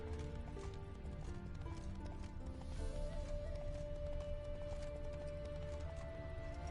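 Rapid hoofbeats drum in a fast, even rhythm as a horse gallops in the video game The Witcher 3: Wild Hunt, with a steady musical drone playing underneath.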